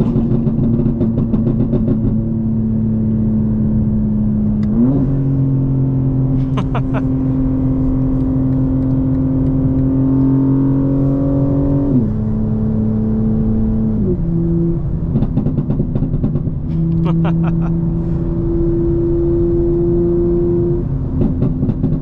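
A stage 2 tuned 2025 BMW M4 Competition xDrive with a catless exhaust, running 93 octane and about 800 horsepower, pulls hard under full boost. The loud engine note climbs steadily through several gears, with a short break at each shift, heard from inside the cabin.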